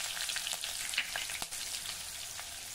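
Curry leaves, asafoetida and turmeric sizzling in hot oil, a soft steady frying hiss with faint crackles and spits, close but quiet.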